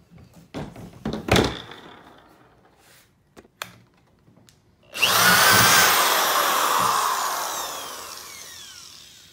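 A few knocks and clatters, then a power drill drilling holes while building a freezer dolly whirs up loudly and runs steadily for several seconds, slowly winding down.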